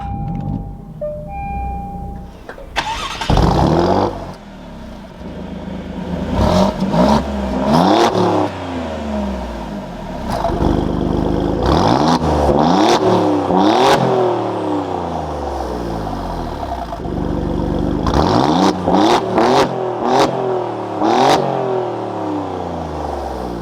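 After a brief electronic chime, the engine of a 2024 Alfa Romeo Giulia Quadrifoglio fires up with a loud bark, then rises and falls through repeated sharp throttle blips before settling into a rumbling idle.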